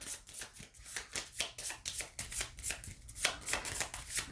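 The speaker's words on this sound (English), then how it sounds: "And we're going to shuffle them up." A deck of cards from the Five Nights at Freddy's: Survive Till 6AM board game is riffled and shuffled by hand, a steady rhythm of crisp, rapid flicks and taps close up, with no talk.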